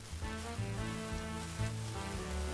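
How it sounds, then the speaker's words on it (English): Cooked pierogi sizzle gently in melted butter in a skillet over medium heat, a soft, steady frying hiss with faint crackles and no talking. "I'm just gonna take my cooked pierogi and place them in the pan"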